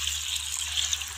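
Water pouring from a cup into a cooking pot of rice and vegetables for biryani, a brief steady splashing gush heard close up with no voices.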